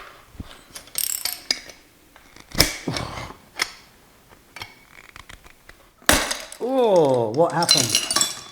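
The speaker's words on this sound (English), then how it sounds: "I've just smashed my pulley." A motor pulley on a Harrison universal milling machine breaks, giving sharp metallic cracks and clanks scattered across several seconds, followed by a rising and falling mechanical grinding whir near the end.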